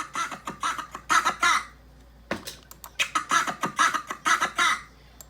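A chopped laughing, scratching sound sample cut into a beat, choppy bursts of raspy cackling in quick rhythmic stutters with a brief pause midway, close and fairly loud.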